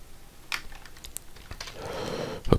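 Computer keyboard keys are struck in quick, uneven bursts while code is typed fast, with a few sharper clacks near the end, close and fairly quiet with no talking.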